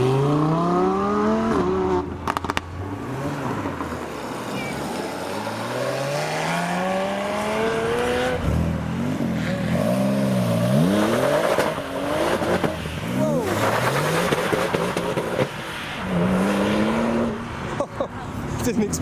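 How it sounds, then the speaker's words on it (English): A turquoise Lamborghini Huracan Performante, a yellow Ferrari 355 and a blue Porsche 996 GT2 leaving a car show, engines revving and sweeping past one after another with rising and falling pitch, loud and close, with voices talking over them. "There goes the Salone Events support vehicle and a turquoise Huracan Performante with the yellow 355 and the blue 996 GT2 behind."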